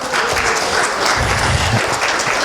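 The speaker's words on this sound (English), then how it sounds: "give brother a big round of applause" A lecture audience bursts into a big round of applause, dense and steady clapping filling the room throughout, with a few cheers rising near the middle.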